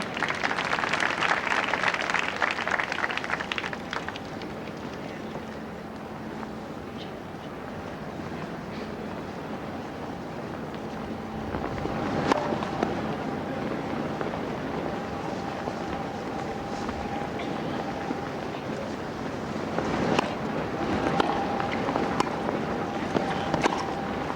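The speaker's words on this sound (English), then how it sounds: "Very strong wind now." Strong wind roars across an outdoor tennis court at a 1993 quarterfinal in Toronto, a broad steady rush that swells and eases over the whole stretch with faint tonal hums beneath.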